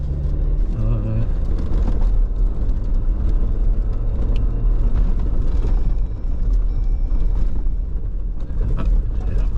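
A jeep climbs a sandy trail with a loud, continuous engine rumble and rattling bodywork, while people talk over it.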